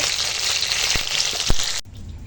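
Lailontekar fish frying in hot oil crackles loudly and close up as a dense, even sizzle with a couple of sharp pops, then cuts off abruptly to a quiet hum near the end.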